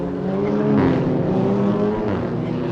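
TCR touring car engines roaring past at high revs on Bangsaen Street Circuit, Thailand, a loud sustained drone that swells and fades slightly, heard from trackside.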